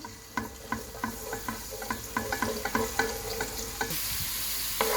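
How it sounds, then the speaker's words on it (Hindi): Garlic ginger paste fries in a pan for noodles, a steady sizzle broken by about a dozen spatula scrapes and clinks in an irregular rhythm, close and moderately loud, with a brighter burst of sizzle near the end. "इसको हम हल्का सा इसको फ्राई करेंगे पहले"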